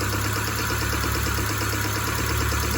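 A Peugeot 406 engine with leaking compression idles steadily just after starting, a continuous low mechanical hum and rumble with no talk over it.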